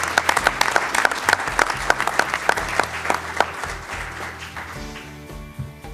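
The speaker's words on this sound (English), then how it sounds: "Let's give them a round of applause." A small audience at a mayor's public message event claps in crisp, distinct strokes that thin out and fade toward the end, with a low hum underneath.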